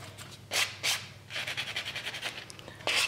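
A nail file rubbing across fingernails during nail art work, making close, raspy scraping strokes: a few separate swipes, then a quick run of short back-and-forth strokes, and a final swipe.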